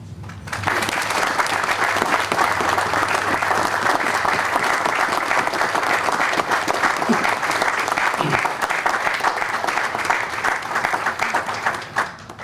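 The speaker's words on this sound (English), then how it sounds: "we ask you now to help us remember by giving those heroes a round of applause to celebrate them" A large crowd at a fire department's September 11 remembrance ceremony applauds the heroes of 9/11, a dense, steady wash of clapping that swells quickly and holds loud and near for the whole stretch before easing slightly at the end.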